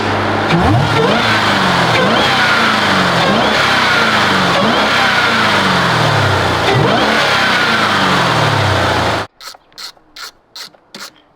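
A Jeep Trackhawk SUV engine with an open aftermarket intake revs repeatedly, rising and falling in loud surges with a raspy intake roar, then cuts off into a few short clicks near the end.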